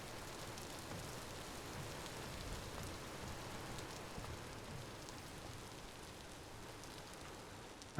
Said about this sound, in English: Can hear the rain on the roofs pretty good.